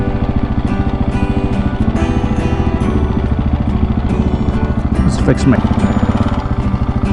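A 701 motorcycle engine revs hard and steady during a wheelie attempt, a loud, close, buzzing drone that rises briefly near the end, with someone talking over it.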